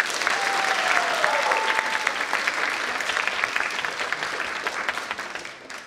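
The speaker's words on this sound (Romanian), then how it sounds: "vreau să o aplaudăm" Theatre audience applauding at a youth stage production, a dense, steady wash of many hands clapping at close range throughout, tapering slightly at the end.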